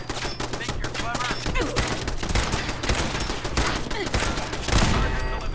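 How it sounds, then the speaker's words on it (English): Rapid automatic fire from a gun turret in a video game, a dense continuous rattle of shots close and loud throughout, with brief game sounds mixed in. "It's a gun turret, Dance."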